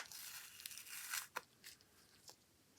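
Adhesive tape is ripped off in short, quiet tearing strips while a Revell 1/25 1968 Dodge Charger R/T model kit body is assembled, with several brief crackling rips close by.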